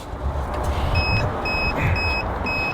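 A 1972 Chevrolet Blazer engine runs with a steady, close low rumble, while a series of high electronic beeps repeats in an even rhythm over it.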